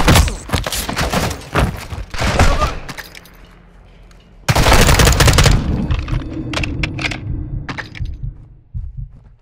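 Loud bursts of automatic rifle fire from the Modern Warfare II campaign, several sharp volleys separated by short pauses, then scattered single cracks and thuds, with brief talk in between.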